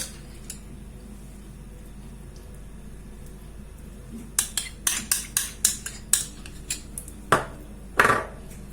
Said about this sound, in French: rajouter dessus une cuillère de mayonnaise. Je vais mélanger et que je vais venir étaler.